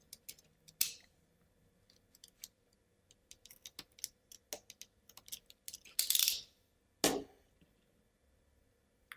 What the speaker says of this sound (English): Tighten the knot and cut out the rest of the rubber band.